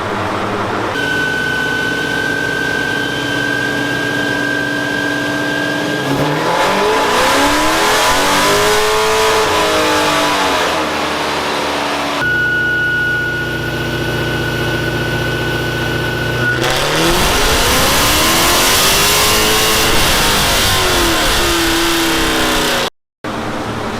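Procharger-supercharged Hemi engine running on E85 with a cam, revving hard through two long tuning pulls with a rising supercharger whine and falling back between them, loud and close, with no talk.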